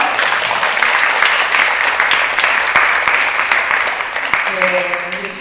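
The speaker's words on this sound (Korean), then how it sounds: "우리 박수 한 번 더 크게 칠까요?" Church congregation applauding at a Korean women's fellowship retreat service, a loud dense wash of clapping that runs steadily and eases slightly near the end, where a faint voice or tone rises beneath it.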